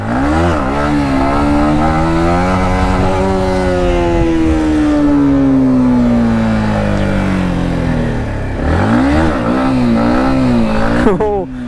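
A Yamaha MT15 motorcycle revs hard in second gear for a wheelie, the engine note climbing and holding loud and close, dropping near the end, then surging again, with someone talking over it.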